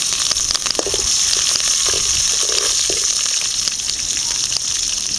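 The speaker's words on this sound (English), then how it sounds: "the mustard is getting busted" Mustard seeds crackle and pop in hot oil in a pan while cooking a spicy gravy, a steady dense sizzle with scattered sharp pops throughout, close and loud.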